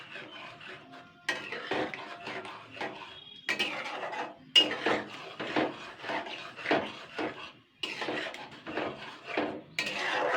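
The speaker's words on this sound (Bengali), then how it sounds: "এবার আমি এটাকে ভালো করে নাড়াচাড়া করে নেব।" Dalgappa stirred in a pot, with bursts of spoon scraping and knocking against the pot separated by short pauses, close and moderately loud, no voices.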